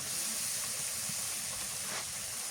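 Hilsa fish goes into a sizzling paste of cooked spices in a pan, and a steady loud hiss of frying fills the sound throughout with no pauses.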